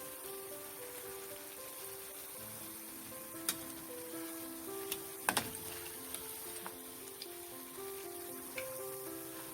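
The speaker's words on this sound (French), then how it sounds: "Cette manière de cuire les beignets, de faire votre beignet." Homemade yogurt doughnuts fry in oil with a soft, steady sizzle, with occasional sharper pops and a faint tonal hum beneath.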